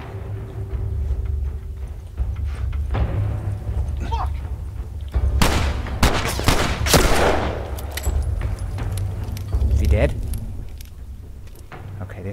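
Sharp sniper gunshots in The Last of Us gameplay, a few loud cracks clustered together mid-clip among scattered smaller impacts, with a player talking throughout.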